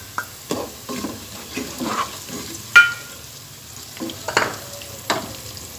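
Chopped onion, garlic and ginger frying in a pan for a potato and spinach curry, with a spatula repeatedly scraping and clacking against the pan over a low, steady sizzle, close up and without talk.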